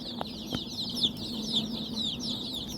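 Desi gavran chicks kept under a brooder bulb chirp in high, thin, overlapping peeps, moderately close, with a few soft thuds underneath.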